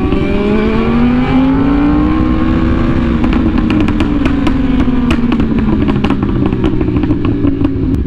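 Sport motorcycles, a Yamaha R1M, Honda Fireblade RRR and S1K, cruise together through rush hour traffic, their engines droning loud and close with a steady rising-and-falling pitch and sharp intermittent clatters over the top.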